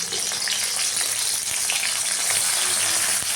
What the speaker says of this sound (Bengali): আর আমি চিংড়ি মাছগুলো ভেজে নেব।